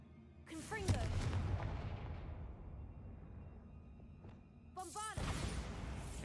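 A fire spell cast in a wizarding video game bursts out as a loud blast with crackling flame that decays over several seconds, followed by a second burst near the end.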